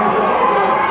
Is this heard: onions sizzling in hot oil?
no